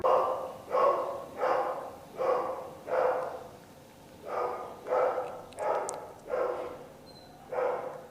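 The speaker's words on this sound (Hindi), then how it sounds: "ये कुत्ते के भौंकने की आवाज सुन रहे हैं आप?" A dog barks repeatedly nearby in a regular pattern of single loud barks roughly every second, with a brief pause midway, and no voices over it.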